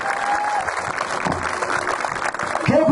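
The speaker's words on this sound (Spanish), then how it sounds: "Fuerte el aplauso para toda la gente de San Alejo." Loud, lively applause from the crowd at a 2015 San Alejo mayoral candidates' debate, a steady roar of clapping with a voice briefly over it.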